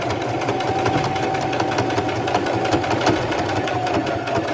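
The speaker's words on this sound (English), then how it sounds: "Let me know if my sewing machine's too loud," A home sewing machine runs steadily through a back stitch while a cup wrap is made from fabric, giving a close, continuous whir with fast mechanical ticking and no pauses.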